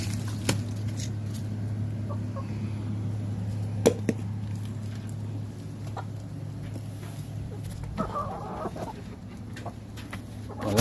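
Chickens in a backyard coop clucking intermittently under a steady low hum, with a few sharp peck-like clicks and a brief louder flurry near the end.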